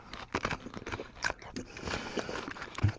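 Someone chews an edible cucumber shot glass from a Mexican pepino shot, producing close, wet crunches and bites in an uneven rhythm, with faint background voices.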